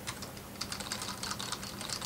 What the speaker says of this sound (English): And by the way, I'm just typing whatever.